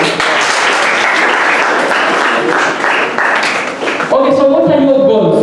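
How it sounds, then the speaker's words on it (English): Audience at a motivational seminar applauding, a dense, steady wash of many hands clapping that fills the room, with a voice cutting in briefly near the end. "A round of applause for all our heroes"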